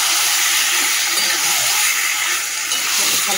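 Mutton with fried onions sautéing in a pan gives a loud, steady hiss and sizzle that holds without a break, with faint stirring underneath.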